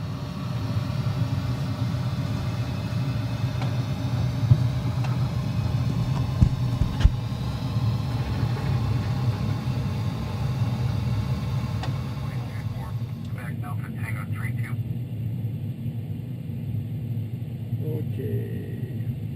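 Boeing 737 NG jet engines running steadily inside a flight simulator, a continuous low rumbling drone that holds through the whole stretch, with faint clicks and a brief higher tone near the end.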